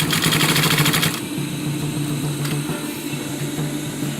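A sewing machine stitches a surgical mask in a rapid, rhythmic burst for about a second, then keeps running with a lower steady motor hum and faint mechanical ticking, close and with no voices.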